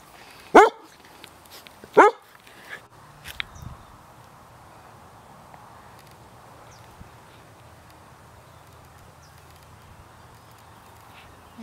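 Two loud, sharp dog barks close by near the start, followed by a few softer yelps and then quiet background hum.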